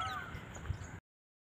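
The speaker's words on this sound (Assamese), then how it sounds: "এটাও আপোনালোকে গাড়ী শব্দ শুনা নাই চিৰিফ আপোনাৰ পশু পক্ষী চৰাই" Crows cawing in an open forest in Gandhinagar, a faint, brief call set against a quiet natural background.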